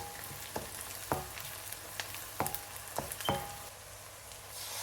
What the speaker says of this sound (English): So let's add 3 green chilies and also fry them over 1 minute.